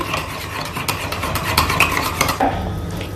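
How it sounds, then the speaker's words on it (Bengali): Eggs for egg chop are whisked in a bowl with a utensil, giving quick irregular clinking and scraping strokes against the bowl, close and fairly loud, with no talk. "খুব ভালোভাবে ডিমটাকে ফেটাতে হবে একদম এরকম"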